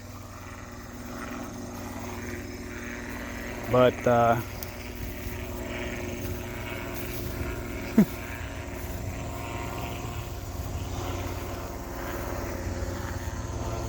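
A helicopter passes overhead above a garden, a steady low rotor drone at moderate distance that holds throughout, with a brief voice speaking early on.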